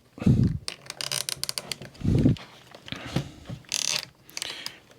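A zip tie is cinched tight while fitting an intercom to a tree-climbing (arborist) helmet, giving a few quick ratcheting bursts with short pauses and handling noise between them, close up and without talk.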